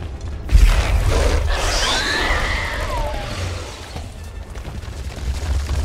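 A video game explosion in SWTOR opens with a sharp, heavy boom. A crackling, whooshing sweep and mechanical rattling follow over a low rumble, with no speech.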